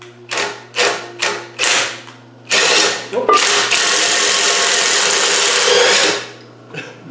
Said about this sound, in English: Let's turn this engine.